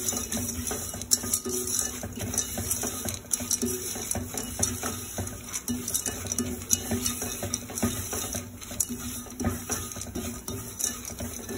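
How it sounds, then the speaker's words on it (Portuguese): Popcorn kernels are stirred in a pot with drops of clove and cinnamon essential oil, making repeated close scraping and rattling strokes against the metal over faint kitchen background noise. "Vou mexer até começar a estourar, fecho a panela, mexo bem, segurando a tampa"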